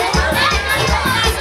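Brief loud crowd noise at an outdoor children's costume contest, children shouting and cheering with applause mixed in, over a thumping beat.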